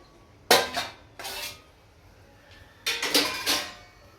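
A plate clatters against metal dishes in three bursts of clinking and scraping, close by, with quiet pauses between.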